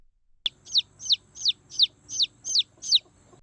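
A small yellow chick chirps in a quick series of about seven sharp, high peeps at an even rhythm, close and clear with no talk.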